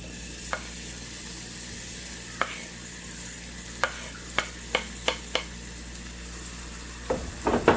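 Onion cooking alone in hot vegetable oil in a pan, a steady soft sizzle broken by several sharp spoon-on-pan clicks and stirring scrapes, close and clear with no talking.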